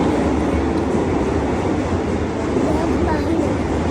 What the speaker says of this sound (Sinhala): මේ දැන් මම ට්‍රේන් එකේ යන ගමන් ටෝකියෝ.